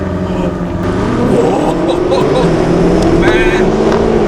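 BMW M cars launch hard off the line in a drag race on an airstrip, their engines roaring loud and steady with pitch climbing as they accelerate, and no gap in the sound throughout.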